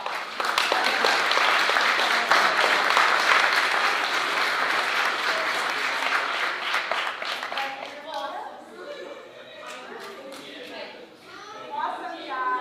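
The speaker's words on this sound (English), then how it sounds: "So let's give them a nice round of applause." An audience at a school board meeting gives a warm round of applause, dense clapping for several seconds that thins out toward the end as a few voices talk over the fading claps.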